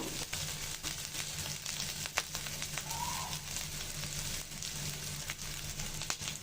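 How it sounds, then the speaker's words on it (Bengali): Green chilies frying with spices in a hot pan give a steady, close sizzle with light crackles and occasional sharp pops, with no voices over it. "কাঁচামরিচটা দিয়ে ভেজে নিব"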